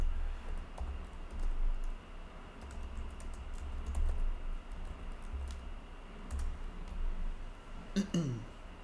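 Steady, close typing on a computer keyboard with soft clicking keystrokes over a low background hum, ending with a brief clink.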